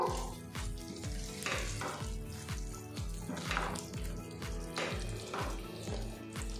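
Spoon stirs garam masala powder into a pointed gourd and red lentil dish frying in a pan over a gas flame, a steady moderate sizzle with repeated scraping stirs and no voices.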